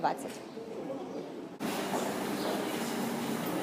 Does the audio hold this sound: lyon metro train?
yes